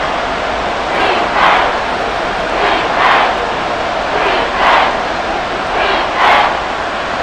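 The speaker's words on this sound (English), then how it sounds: "The Arrowhead crowd in full roar." Arrowhead Stadium crowd roars in Madden NFL 24, a loud, continuous wash of noise swelling in several waves, about one every second and a half.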